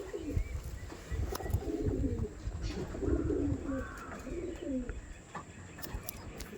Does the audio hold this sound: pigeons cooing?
yes